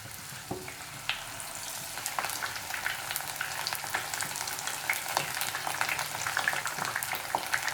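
Marinated paneer pieces deep frying in hot oil for paneer 65, a steady close bubbling sizzle with scattered crackles and pops that grows slightly busier over time, no voices.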